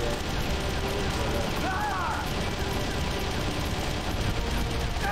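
Continuous M60 machine gun fire in the GameCube game Metal Gear Solid: The Twin Snakes, a steady dense rattle of rounds with faint game sounds mixed in.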